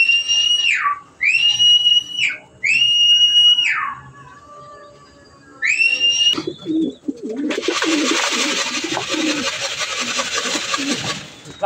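Pigeons at a tractor-style open trap at a racing pigeon club: four loud, shrill whistled calls come in quick bursts, followed by a long stretch of broad rustling noise.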